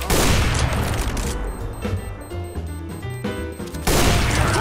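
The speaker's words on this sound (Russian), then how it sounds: "Отличный выстрел, ребята!" Loud, dense gunfire in the CS:GO retake mode, with a burst of overlapping shots at the start and end and sharper single reports and clatter in between, close and without talk.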